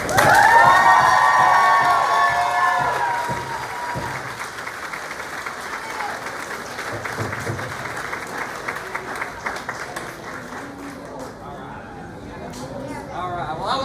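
Applause and cheering from a crowd at a community recovery walk event, loud at first with some whoops, then settling into steady clapping that fades gradually over the remainder.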